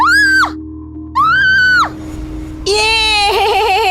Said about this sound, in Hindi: जोर से चीख पड़ी